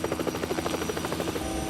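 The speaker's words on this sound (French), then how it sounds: "je connais cet hélicoptère." A helicopter drones steadily nearby, its rotor beating in a fast, even chop throughout, loud and with no voices.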